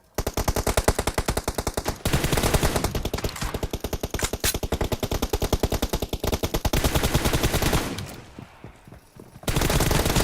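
Automatic gunfire in the battle royale game PUBG, loud rapid bursts of shots that run almost continuously, pause briefly, then resume at full volume.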